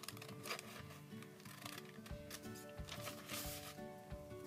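Scissors snip steadily through fabric as applique pieces are cut out, a run of close, quiet crisp cuts and rustling in a quilting setting.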